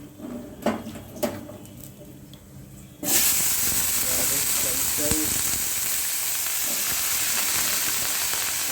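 Vegetables for a mixed vegetable stew (kootu) drop into a hot pan with chana dal and burst into a loud, steady sizzle that continues hissing, after a few quieter knocks of handling.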